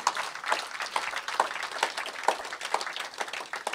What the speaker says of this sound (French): Est-ce qu'on peut acclamer notre Dieu?